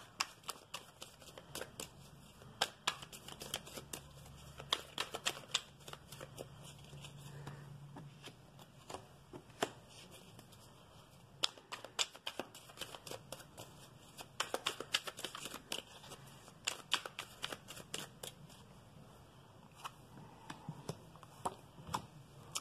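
Tarot cards shuffled by hand at close range, a long stretch of rapid riffling flutters and soft slaps with steady rhythm, quiet and without talk.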